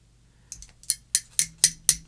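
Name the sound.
vintage jewelry pieces clinking, sounding like glass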